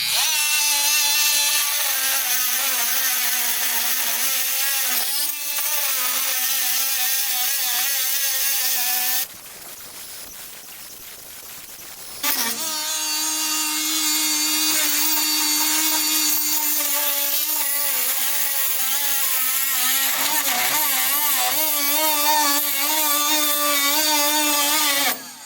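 Seized bolt being cut off a 1966 Double Cab transaxle with a power tool, a loud, high, whining grind that wavers as the cut bites, pausing briefly mid-way before resuming for a long stretch.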